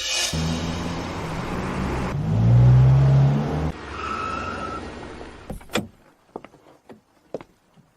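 Cars pull into the village of Elmwood: an engine swells to a loud, close revving peak, then eases back to a steadier hum before giving way to scattered clicks and knocks like doors and footsteps, with no voices.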